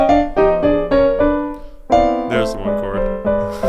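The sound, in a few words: the one chord, in a particular jazz voicing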